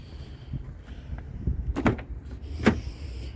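Power liftgate on a 2022 Kia Telluride SX Nightfall closing: a low motor whir with rattles, followed by two solid latching thunks close by.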